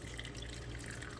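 Hot tea poured and filtered into distilled water, a steady continuous liquid trickle and splash like running water, close and fairly quiet, with no talking.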